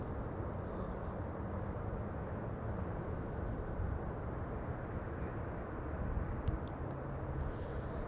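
A Boeing 777 at Amsterdam Schiphol Airport gives off a steady, broad jet engine roar that holds at even loudness throughout, heard from a distance with no voices.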